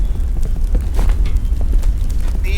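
A rocket launcher blast in the Roblox shooter Rivals, a loud booming burst that rumbles on through its full length amid dense, continuous game noise.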